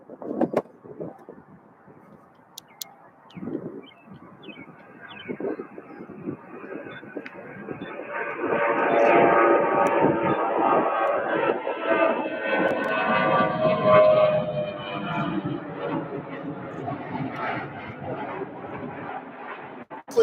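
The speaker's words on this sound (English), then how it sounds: "a very, very, very, very uncommon Delta 717 taking off on 35 right" A Delta 717 airliner takes off on runway 35 right at Louisville airport, a broad distant engine roar swelling to a peak midway and then slowly fading, with wind noise and faint background sounds.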